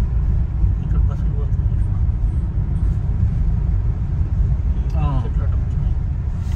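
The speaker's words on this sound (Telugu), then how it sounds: "బస్సులు పోతున్నాయి చూసిన అది హైవే సార్" Buses and other traffic pass along a highway near a housing venture with an underpass, a heavy continuous low rumble of engines and tires, while someone talks over it throughout.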